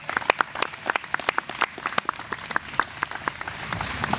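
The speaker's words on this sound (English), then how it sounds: "let's give Brookside Gardens a round of applause." Sparse, distinct hand claps from a small outdoor crowd on a morning at Brookside Gardens, a public garden, with individual claps standing out against a soft ambient background.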